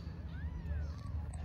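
A mother cat gives soft, faint meows, a couple of short rising and falling calls over low background noise.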